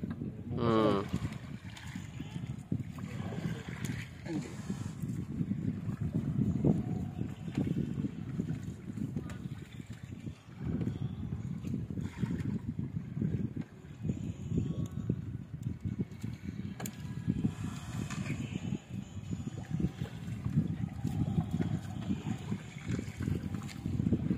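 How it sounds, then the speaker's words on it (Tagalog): Strong wind roars steadily across a small fishing boat during net fishing, a continuous blustery rumble that persists throughout while people talk over it. "Lakas ng hangin."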